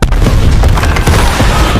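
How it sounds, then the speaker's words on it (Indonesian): A loud, sustained booming explosion from an Avatar animated story, a dense rumbling blast filling the short stretch without pause. "tiba-tiba saja ada suara ledakan"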